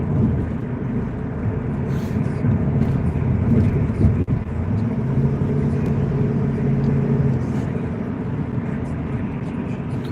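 A small car drives on a morning commute, its engine hum a steady loud rumble with a gear-shift rise in pitch midway, constant road noise throughout.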